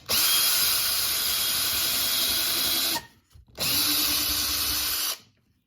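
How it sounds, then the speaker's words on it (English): A power drill fitted with a nail in place of a bit bores a hole, whining loudly and steadily for about three seconds, stopping briefly, then running again for a second burst before cutting off. "then you can just drill a hole through"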